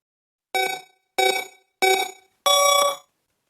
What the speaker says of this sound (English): So let's hit the timer